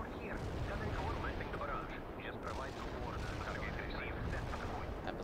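Incoming artillery in the video game World in Conflict, a dense, continuous roar of shelling and blasts that stays loud and unbroken throughout, with no clear pause between impacts.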